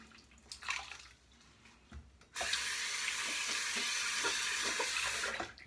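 Tap water rinsing a shaving brush, a sudden steady rush of running water near the mic that begins partway through after a few quiet handling sounds and continues to the end.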